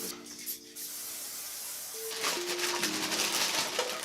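Non-stick cooking spray hissing from a can in a kitchen during keto meal prep, a steady close spray lasting a couple of seconds after some quieter handling noise.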